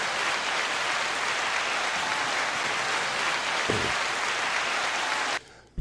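Studio audience applause at the start of a talk show, a steady dense clapping wash lasting about five seconds before cutting off abruptly.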